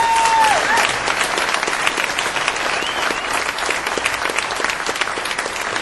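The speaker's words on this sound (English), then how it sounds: "Please, a big round of applause." An audience at a ventriloquist convention, the Vent Haven ConVENTion, breaks into sustained, dense applause that stays loud and even throughout, with a few scattered cheers mixed in.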